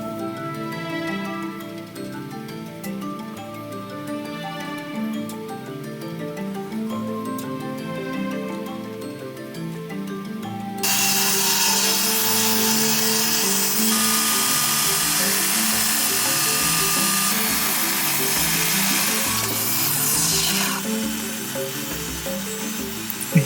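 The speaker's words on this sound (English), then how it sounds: "We're using the skill saw" A circular saw cuts a series of strips into a timber tenon during restoration of a 300-year-old Suffolk timber-frame farmhouse. A steady, close, loud motor whine runs throughout and turns harsher and brighter as the blade bites into the wood about halfway through.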